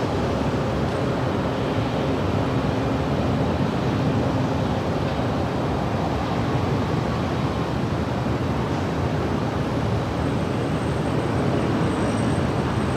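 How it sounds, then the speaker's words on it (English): An Air France airliner from Paris arriving at Los Angeles International Airport, heard as a broad, steady jet roar with wind-like rushing. The roar holds at a fairly even loudness from start to finish, with no talk. "Up next, Air France Flight 70 coming in from Paris."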